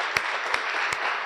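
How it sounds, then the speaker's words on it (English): At an honor society induction evening, an audience gives a final round of applause for inductees and a guest speaker, a brief, even wash of clapping with a few sharper individual claps standing out. "one more round of applause for all of our inductees and our guest speaker"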